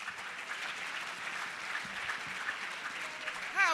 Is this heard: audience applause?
yes